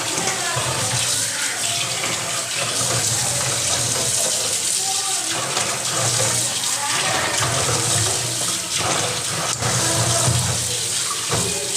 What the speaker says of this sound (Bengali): কাঁকড়া কিন্তু দেখো ধোয়া হয়ে গেছে